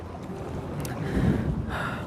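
Cold wind blowing outdoors, buffeting the microphone with a steady low rumble that swells briefly, close and moderately loud, with no talking.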